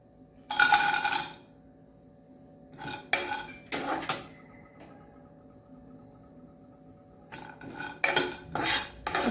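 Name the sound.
stirring coconut roasting in a kadhai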